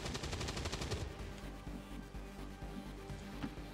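Rapid bursts of gunfire in the XCOM 2 video game, loud and dense in the first second, then sparser sharp shots and thumps continuing behind the busy game sound.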